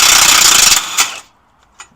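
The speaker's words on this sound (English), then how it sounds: "I'm gonna use my impact wrench" An impact wrench removes an 18 mm bolt from the steering rack of a 2007–2010 Audi Q7. One loud, rapid hammering burst runs for just over a second, then stops, and a brief faint clink follows.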